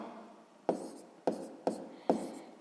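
Pen writing numbers on paper for long division, four distinct scratchy strokes with short pauses between, close and quiet.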